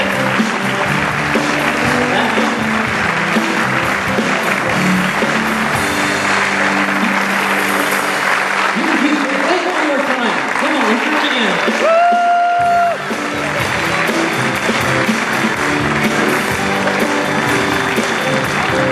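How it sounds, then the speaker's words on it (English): A congregation at a Baha'i unity celebration gives a loud, thunderous round of applause for first-time visitors, dense sustained clapping and crowd noise with voices and a brief tonal sound partway through. "the rest of us are going to give you a thunderous round of applause"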